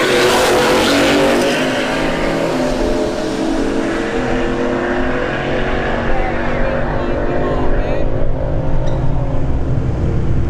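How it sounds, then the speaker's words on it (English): An 88 mm turbo Ford LTD drag car thunders down the strip at a drag racing test-and-tune night, a loud close engine roar sweeping past and fading into a distant drone, with a voice talking over it. "he's about to get gapped by this 88 millimeter turbo LTD in the right lane"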